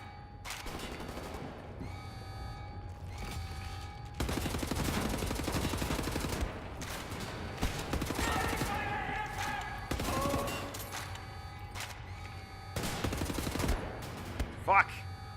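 Gunfire in Wolfenstein: The New Order, loud repeated shots and bursts spread across the stretch with brief lulls, mixed with game sound and background music.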